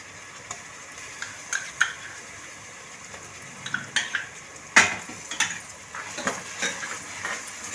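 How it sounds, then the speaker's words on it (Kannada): Onions with ginger garlic paste frying for beetroot pulao: a soft sizzle under repeated metallic clinks and scrapes of a spoon stirring in a pan, irregular and close. "ಇವಾಗ 2 ಲೋಟಕ್ಕೆ 2 ಸ್ಪೂನ್ ಶುಂಠಿ ಬೆಳ್ಳುಳ್ಳಿ ಪೇಸ್ಟ್ ಹಾಕ್ತಾಯಿದ್ದೀನಿ."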